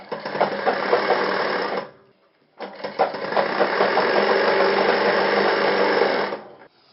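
A sewing machine stitches a shirt collar in two loud, steady runs of rapid whirring, separated by a short pause, with no talk.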